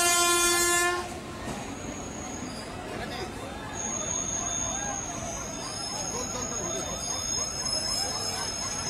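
A train horn blares at the start, then a fast train rumbles and clatters past a level crossing near rail gate 8 in Khardah, a steady close roar lasting several seconds, with a voice speaking over it.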